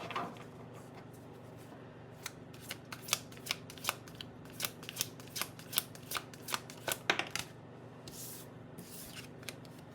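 A deck of cards is shuffled softly and close by, with a string of quick crisp riffling snaps over a faint hiss, mostly steady ticks and a few louder flicks, no talking.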